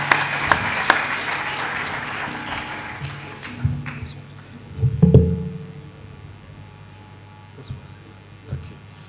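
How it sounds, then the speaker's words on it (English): Applause from an audience at a business foundation forum, a spatter of claps that swells briefly in the middle and then thins out, fairly distant in a large hall. "So please give him a round of applause."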